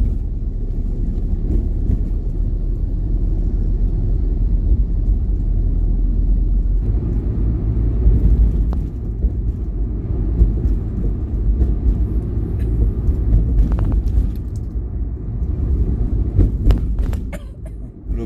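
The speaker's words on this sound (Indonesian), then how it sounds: "Ini masih ramai kendaraan, guys." Steady low rumble of engines and tyres in busy night traffic, heard from inside a moving vehicle, a continuous loud drone with a few brief clicks and knocks near the end.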